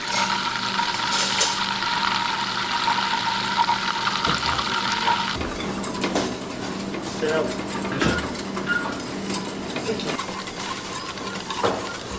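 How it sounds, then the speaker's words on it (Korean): Butter heating in a pan to become brown butter gives a steady, broadband sizzle and crackle with a few sharper pops and utensil knocks, while a voice talks over it. "버터를 열을 가해서 브라운 버터를 만드는 과정입니다"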